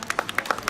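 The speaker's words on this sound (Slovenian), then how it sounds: "tako da aplavz za Žigo" An audience applauds Žiga at a Lions Club charity run in Volčji potok, a brief burst of steady crowd clapping at moderate distance.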